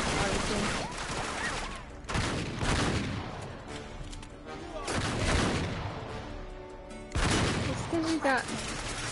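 Shotgun blasts and a stream of other gunfire fill a firefight in the video game Uncharted 3: Drake's Deception, with loud bursts recurring through the stretch and game voices faintly mixed in.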